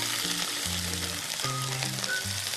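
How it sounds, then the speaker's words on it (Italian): Octopus browning in a pan of hot oil with garlic, chili and parsley stems, a steady close sizzle and frying crackle running continuously with no talk. "Appena l'aglio, il peperoncino e i gambi di prezzemolo sono ben rosolati, mettiamo il polpo. Facciamo rosolare bene."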